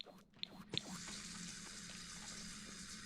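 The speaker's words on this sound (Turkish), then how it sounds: "Önce biz bir duşumuzu alalım şöyle." A shower runs in The Sims 4, giving a steady hiss of falling water that starts after a few small clicks and continues evenly and fairly softly throughout.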